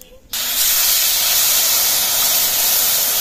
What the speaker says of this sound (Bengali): নেড়ে চেড়ে তেঁতুলের জলটা দিয়ে দেবো